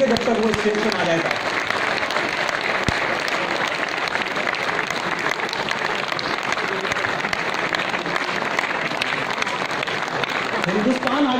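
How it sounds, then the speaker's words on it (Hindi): Loud, sustained audience applause fills a celebration event as a guest is called onto the stage, steady clapping from a large crowd continuing without a break from start to finish. "तालियां तब तक नहीं रुकनी चाहिए जब तक वो स्टेज पर आ जाएगा।"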